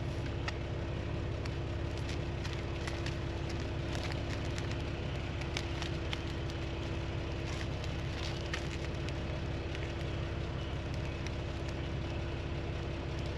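A 2006 Jeep TJ Rubicon drives off-road near a reservoir lake, with a continuous low engine rumble broken by scattered crackles and knocks from the rough ground.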